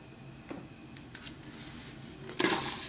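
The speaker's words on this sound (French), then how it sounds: "Donc là on met les oignons." Onions tipped into a Cookeo pot while making risotto: a few light taps and clinks, then a sudden loud sizzling hiss near the end as they hit the hot base.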